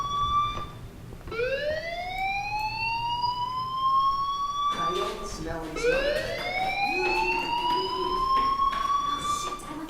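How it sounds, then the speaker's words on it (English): In the Life Is Strange video game, a fire alarm wails in repeated rising sweeps, loud and continuous, with a voice talking over it. "Hey, do you hear that fire alarm?"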